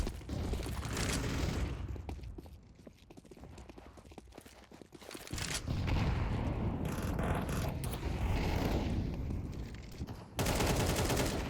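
Counter-Strike 2 gunfire crackles as a player runs and shoots, with dense, loud bursts of rapid shots and footsteps that continue almost without pause.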